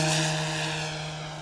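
An RC Yak-11 model plane flying at full throttle, its steady high-pitched propeller drone loud and close, fading slightly as it passes, with no talk.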